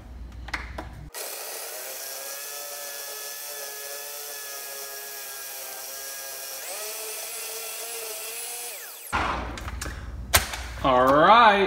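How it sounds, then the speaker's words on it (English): Blender whirring through a sweet potato pie nice cream, a steady loud motor drone with harmonic whine lasting several seconds, shifting pitch slightly as the frozen mix churns, then cutting off abruptly before clattering handling noises. "Now we're just gonna let that blend."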